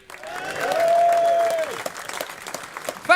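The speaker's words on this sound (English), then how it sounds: "give yourselves a nice big cheer now?" An audience cheers and applauds at an outdoor public event, a swelling wash of clapping with a sustained whistle or whoop riding over it, then tapering into scattered claps.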